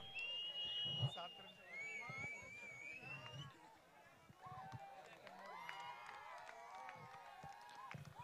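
Spectators at a local cricket semi-final match in Goregaon erupting after a six, a near, loud mix of shouts, whistles and cheering voices that dips briefly midway and then swells again.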